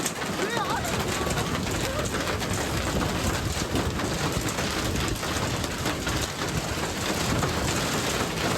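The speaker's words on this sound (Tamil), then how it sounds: "சென்னை ஆவடியில் ஆலங்கட்டி மழை பெய்து வருகிறது" Hail and heavy rain pour down in Avadi, Chennai, a dense, constant roar of drops and pellets striking surfaces from start to finish, with a voice faintly present beneath the downpour.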